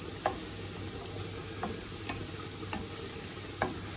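Cabbage and onion stir-frying in a pan, a faint low sizzle broken by a few sharp spatula clicks spaced irregularly.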